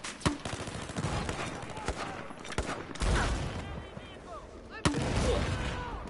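Mortar and gunfire in a video game: sharp blasts and cracks land at irregular gaps, with a few louder booms standing out over a busy battlefield clatter.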